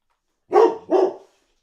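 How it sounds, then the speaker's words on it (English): A dog barks twice at close range, two loud, rough woofs in quick succession against an otherwise silent background. "Sorry for all the dog barking we have ensued."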